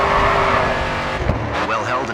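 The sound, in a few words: car drifting with tire squeal in the video game Grid 2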